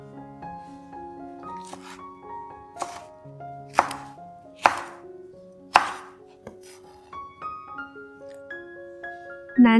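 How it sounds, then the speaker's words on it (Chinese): A knife slices peeled galangal on a board in a rhythmic series of crisp, close, separate cuts over quiet background music. "南姜去皮切片，放到碗里备用。"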